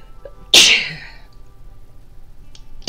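A single sharp human sneeze bursts out loud and close, decaying over half a second, followed by quiet room tone and a faint small sound at the very end.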